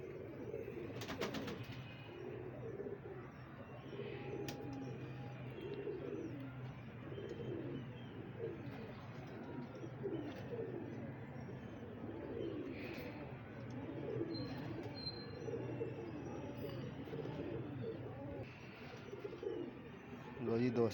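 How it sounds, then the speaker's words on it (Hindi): Pet pigeons in a home loft cooing steadily, a repeated low rolling coo over a constant background hum, with a few brief higher chirps scattered through. "मलक साहब के घर के परिंदों का शो कराया करो"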